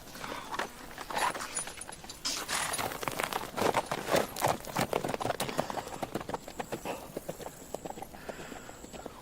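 Horses' hooves clip-clop on a hard surface, a close, steady run of sharp knocks that grows busier and more rapid toward the middle before thinning out slightly at the end.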